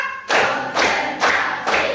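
A class of students claps in a rhythmic clapping routine in a classroom, with four loud, evenly spaced bursts of claps about half a second apart, no talking over them.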